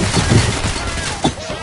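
Rapid gunfire from the Payday The Heist video game crackles in a dense, loud burst, close and chaotic, with a voice talking over the shooting.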